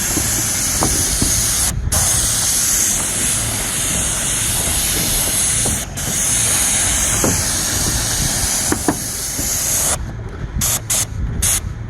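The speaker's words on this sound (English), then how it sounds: "Me and Halfway Hollywood spraying on a roof." A sprayer applies coating onto a roof, producing a loud, steady hiss that runs nearly unbroken for about twelve seconds, with a few brief dips and choppier interruptions near the end.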